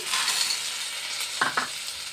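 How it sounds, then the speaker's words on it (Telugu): Peeled peanuts tipped into a hot oiled pan, a steady close sizzle of frying with a couple of short scraping stirs partway through. "ఇప్పుడు పొట్టు తీసుకుని వేసేస్తున్నానండి పల్లీలు"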